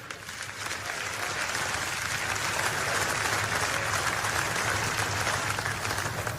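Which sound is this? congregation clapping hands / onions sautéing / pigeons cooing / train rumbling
congregation clapping hands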